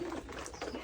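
Domestic pigeons at a small pigeon farm give a brief, soft coo, faint and close, lasting under a second.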